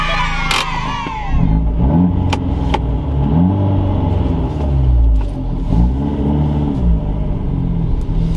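Abarth 124 Spider sports car in sport mode revving on the move, the engine note climbing and falling in repeated smooth sweeps over a steady rumble inside the cabin, loud and close.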